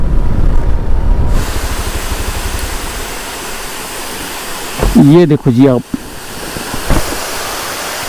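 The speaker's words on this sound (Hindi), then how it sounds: "वो देखो हाइट पे बिल्कुल झरना आ रहा है एक, और हम बिल्कुल उस झरने के पास से निकलेंगे।" A waterfall beside the small mountain village of Tangish gives off a steady broadband rush that fills the scene from near at hand, while a voice speaks briefly over it.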